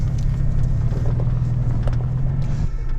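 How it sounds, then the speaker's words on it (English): A Toyota 4Runner Ultimate Build creeps down a rocky, moguled trail on Red Cone Pass, Colorado, locked in first gear, its engine giving a steady low rumble close by with faint knocks of rocks underneath. "This is going to be a first gear only descent, so we're going to lock the vehicle in first gear."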